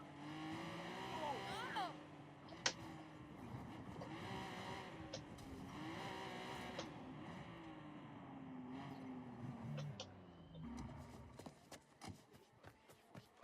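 Car driving along a road in the video game Watch Dogs 2, a varying engine drone with gear changes and occasional tire noise, heard under game dialogue and music.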